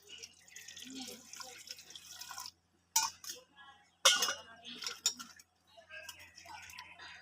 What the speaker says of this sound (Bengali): এবার কলের জল দিয়ে ভালো করে ধুয়ে নেব।